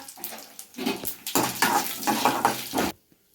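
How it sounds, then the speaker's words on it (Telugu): Chana dal, mustard seeds, urad dal, chillies and cumin hit hot oil in a tempering for atukula pulihora, giving loud close sizzling and crackling in uneven bursts that stop abruptly at the end. "శనగపప్పు ఆవాలు మినప్పప్పు అయితే వేసేసుకుంటున్నా మిరపకాయలు జీలకర్ర"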